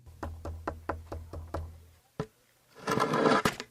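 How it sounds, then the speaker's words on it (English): Knocking on a door at a closed ticket office in a Sherlock Holmes adventure game: a steady run of seven sharp raps, then a single knock after a pause, followed by a louder rustling burst. "Knock again, old fella."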